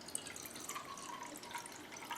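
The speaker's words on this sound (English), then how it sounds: "Throw in the rest of the mushroom water." Shiitake mushroom soaking water poured into a simmering chicken stock in a home kitchen, a faint steady trickle and splash with light dripping, quiet and continuous.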